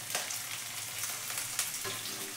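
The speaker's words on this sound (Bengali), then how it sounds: "যে পেঁয়াজটা কুচিয়ে রেখেছি সেই পেঁয়াজ কুচিটা দিচ্ছি তেলেতে" Chopped onion frying in hot mustard oil for a fish stew, a steady dense sizzle with a couple of sharper crackles, close and continuous with no voices.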